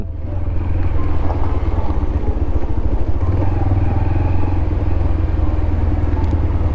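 A 125cc motorcycle ridden on a mountain road toward Darjeeling, its engine holding a steady, loud, close drone with low rumble throughout, and no voices over it.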